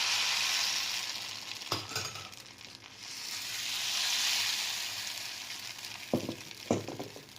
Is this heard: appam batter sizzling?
yes